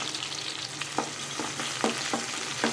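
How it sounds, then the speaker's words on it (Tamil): Dried red chillies and chopped onion fry in hot oil for a Tamil mochai kulambu, giving a loud continuous sizzle with repeated quick scrapes of a stirring spoon, close up and without speech. "அது கூட கட் பண்ணி வச்சுருக்க இந்த வெங்காயத்தையும் சேர்த்துக்குவோம்"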